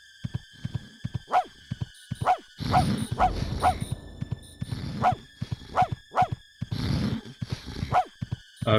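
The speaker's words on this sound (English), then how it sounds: "barking at that guy is doing nothing" Dog barking in The Grinch video game, a string of sharp, loud, evenly spaced barks over game sounds with bright background tones.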